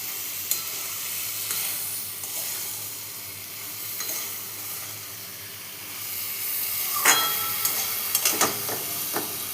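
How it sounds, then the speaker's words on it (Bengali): Soft eggplant frying gently in oil over low gas heat, a steady quiet sizzle with occasional louder crackles and scraping stirs, close by and without talk. "বেগুনগুলো ভাজা হবে"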